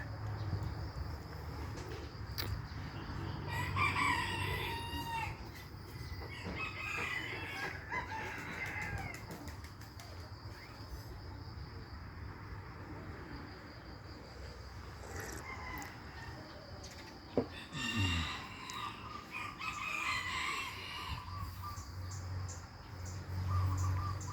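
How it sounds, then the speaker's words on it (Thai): Roosters crow intermittently in an outdoor morning scene, with clucking fowl and a steady bed of insect chirring throughout. "เช้าเนี่ยฟังเสียงนกเสียงไก่"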